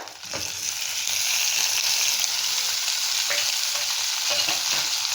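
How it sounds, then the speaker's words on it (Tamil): Tomatoes sauté with fresh curry leaves in a pan for tomato dosa, making a steady close sizzle broken by occasional stirring scrapes and clicks, with no talking. "இப்போது தக்காளி பழத்தை அதில் கொட்டுறேங்க."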